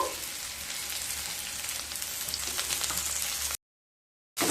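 Onion fries in a pan with a steady, dense sizzle close up, running continuously before a short cut to silence and a brief return.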